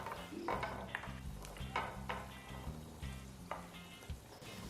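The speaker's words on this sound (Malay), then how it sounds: "Bila minyak panas, masukkan kacang separuh je dulu." Steady sizzling of coated peanuts frying in hot oil over medium heat, with occasional stirring scrapes and clinks over a continuous crackling bed.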